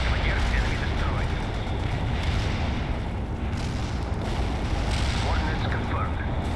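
A World in Conflict artillery barrage on a snowy battlefield rumbles as a continuous heavy, low roar of distant shell bursts, with faint radio-style voices and game chatter layered over the booming.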